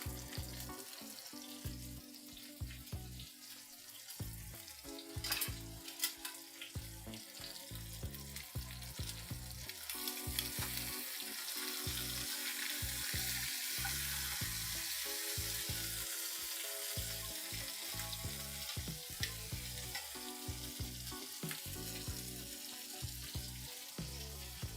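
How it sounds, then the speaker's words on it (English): A pot of rice boils on a stove with a steady bubbling, sizzling hiss that grows louder and denser midway through, running continuously without any voices. "Rice is boiling"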